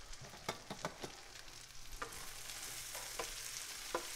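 Onions frying in melted butter in a pan give a steady low sizzle, with several sharp clinks and scrapes of a utensil stirring against the pan scattered throughout.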